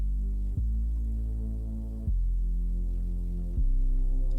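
Low bass note in a music mix lifted by a bass rider plugin, heard as a deep sustained tone that restarts about every one and a half seconds, each repeat a little louder.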